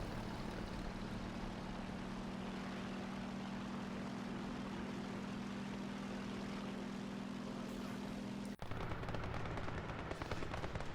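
Propeller aircraft drone steadily over distant gunfire in a competitive World War II–style strategy video game match, a continuous close engine hum that shifts abruptly near the end.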